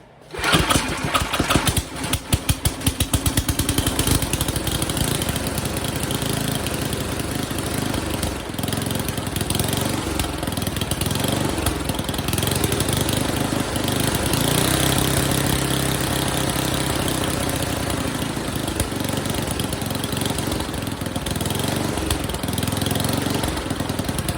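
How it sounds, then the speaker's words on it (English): A HIPA snowblower's small gasoline engine with a worn muffler is cranked and fires up, then runs steadily with a loud, continuous, raspy drone close by, with no talking. "the muffler is a little bit wore out. So we'll crank that up."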